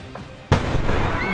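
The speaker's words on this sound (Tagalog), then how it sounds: "Malagyerang bomba ang umalingaw-ngaw sa gitna ng mga nasusunog na bahay sa barangay Oro Site." LPG tank exploding amid burning houses in barangay Oro Site, Legazpi City, Albay: a sudden loud, sharp blast halfway through, followed by a sustained heavy roar of noise.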